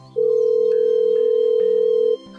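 Telephone ringback tone heard while waiting for someone to answer: one steady electronic tone holding about two seconds, loud and clear over faint background music.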